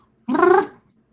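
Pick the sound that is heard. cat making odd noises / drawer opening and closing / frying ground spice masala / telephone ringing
cat making odd noises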